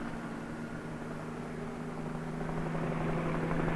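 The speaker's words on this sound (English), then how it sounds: "Whirling over the city, a police helicopter reports traffic movement to the operations center." Police helicopter whirling over a city, a steady broadband rotor and engine roar with a low droning hum, constant and slowly growing slightly louder.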